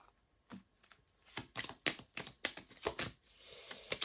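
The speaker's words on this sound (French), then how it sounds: "je vais mettre ici cette carte" Tarot cards being handled and placed on a table, a string of quick, close, soft slaps and shuffling flicks in an irregular rhythm, with no talk during the sounds.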